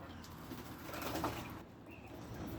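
Pigeons kept in a coop give soft, low cooing calls amid a busy, rustling background, moderately close, with no talking.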